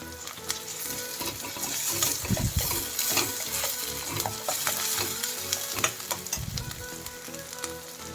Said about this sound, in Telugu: ఇప్పుడు ఇవి వేగుతున్నాయి కదా ఒక టేబుల్ స్పూన్స్ అల్లం వెల్లుల్లి పేస్ట్ వేసి కలుపుకుందాం